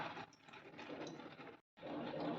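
Mustard seeds splutter and pop in hot sesame oil in a kadai on a stove, a steady dense crackle close up, with one brief break before the sizzling resumes.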